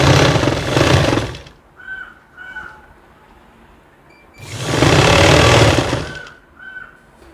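A sewing machine stitches fabric during a home sewing lesson, running in two loud sustained bursts separated by short quiet gaps with faint clicks.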